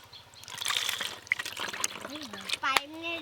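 Homemade lychee drink pours from a jug into glasses at home, a short run of splashing and trickling liquid with rising gurgles as the glasses fill, close and fairly loud, with voices in the background.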